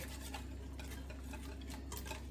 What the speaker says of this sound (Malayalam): ഒന്ന് മിക്സ് ആക്കട്ടെ